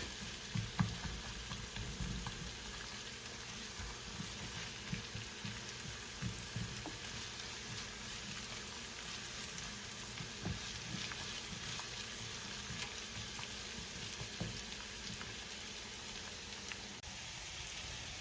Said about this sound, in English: We're going to allow this to cook for about 5 minutes or until the onions are translucent.